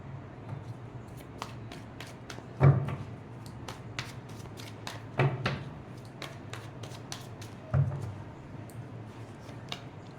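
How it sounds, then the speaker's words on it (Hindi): Tarot cards are shuffled and tidied by hand, giving a run of crisp riffling flicks close by, with three louder shuffling bursts at regular intervals and no voices. "मैं कार्ड्स को ठीक करूँगा इस"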